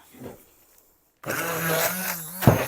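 A kitchen blender whirs as it chops crab sticks and cheese into a mince for patties, starting abruptly after a brief quiet moment and running steadily close by, with a louder knock near the end.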